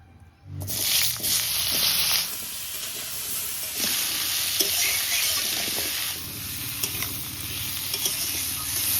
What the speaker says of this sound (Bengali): কড়াই গরম হয়ে গেছে, তেল দিয়ে সবজিগুলো একটু ভেজে নেবো।